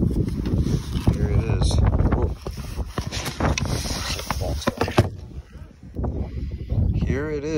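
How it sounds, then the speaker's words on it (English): Wind buffets the microphone outdoors at a truck and car meet, with loud rumbling gusts throughout, while someone talks over it. "of course it is windy"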